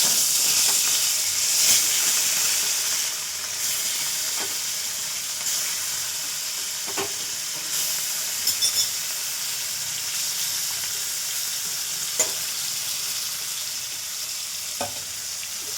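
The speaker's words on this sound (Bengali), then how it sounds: "মাছটা কড়াই দিলাম" Pieces of catla fish sizzle steadily in a kadai of hot oil, a continuous bright frying hiss with occasional pops and light clicks, close and alone without talk.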